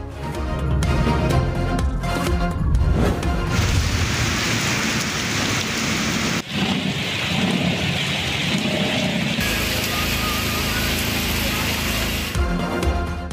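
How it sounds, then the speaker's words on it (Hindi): Heavy monsoon rain pours down across cities in Sindh, a dense, loud roar of downpour spliced across several outdoor shots, with a brief dip between cuts. "सिंध के मुख्तलिफ शहरों में मूसलाधार बारिश।"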